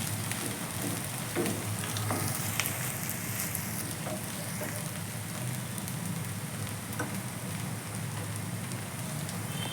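Amaranth leaves with moong dal and spices frying in a pan, a dense continuous sizzle with faint scattered ticks of stirring, steady throughout and without speech.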